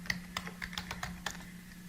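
Names are typed on a computer keyboard in a quick, irregular run of light key clicks close up over a faint steady hum.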